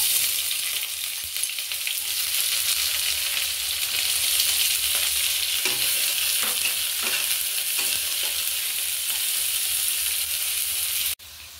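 Chopped onion fries in hot oil in a kadai with a bay leaf and whole spices, giving a loud, steady sizzle with occasional stirring scrapes. The sizzle cuts off near the end.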